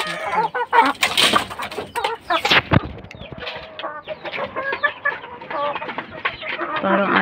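A young fighting-breed rooster chick clucks repeatedly at close range, short choppy calls in an uneven rhythm over a farmyard background, with no talk.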